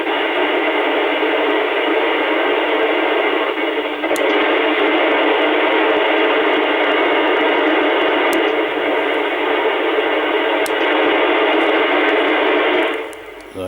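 A Jopix 900 PRO CB radio gives out a steady, loud hiss of band-limited static with its noise reduction switched on. A few faint clicks break the hiss before it cuts off abruptly near the end.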